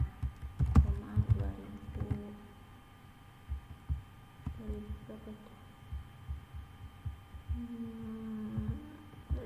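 Manual typing on a computer keyboard, scattered soft key taps in short bursts over a low steady hum, with a voice talking at intervals.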